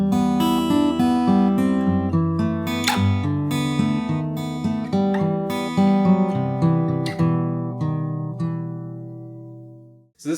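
An acoustic guitar continues fingerstyle through a second section, with low plucked bass notes under a ringing melodic line. Notes are picked steadily and close, then the passage settles into a sustained chord that decays to near silence.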